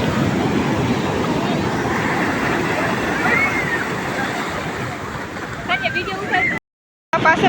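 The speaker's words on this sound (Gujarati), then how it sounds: "છે મોજા પણ મસ્ત આવે છે અહીંયા અત્યારે અમે દરિયાની સાવ બાજુમાં આવ્યા છે અને પાણી પણ આવે છે" Sea waves washing onto the shore at Porbandar during a fair, a constant close rushing surf with wind, while people talk and a crowd murmurs over it.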